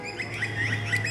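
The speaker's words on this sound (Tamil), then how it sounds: "அது குருவியோட சத்தம்டா." A sparrow chirps in a rapid run of short, bright calls, close and fairly clear over a steady low hum, with no talk.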